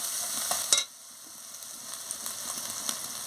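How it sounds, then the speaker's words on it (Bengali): Ground turmeric, chili, coriander and cumin powder fry in a pan, opening with a loud stirring scrape and sizzle before settling into a softer, steady crackle with faint occasional clicks. "দিয়ে ভালো করে মশলাটাকে ভেজে নিচ্ছি।"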